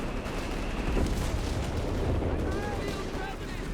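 Artillery rumbles and booms from a Company of Heroes 3 match sound in the background of a multiplayer battle, with someone commentating over the steady low barrage.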